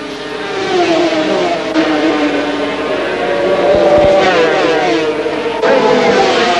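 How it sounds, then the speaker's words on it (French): Yamaha and Honda 500cc Grand Prix two-stroke motorcycles race at Francorchamps in 1983, engines screaming loud and continuous as they rise and fall through gear changes, close by with no break in the roar. "un combat singulier, Roberts contre Spencer, Yamaha contre Honda."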